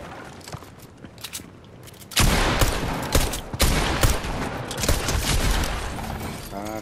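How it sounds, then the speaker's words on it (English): Rapid bursts of gunfire from a shotgun fight in Fortnite Chapter 4 Season OG played on PS5, loud dense blasts that crowd together after a quieter stretch of game noise. "shot him with the shotgun."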